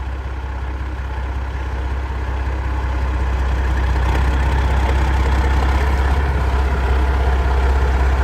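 A semi pull truck engine runs at a steady, loud, deep rumble close by, holding an even idle throughout with no talking.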